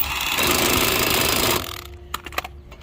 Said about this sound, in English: I'm going to speed this process up by using this Milwaukee impact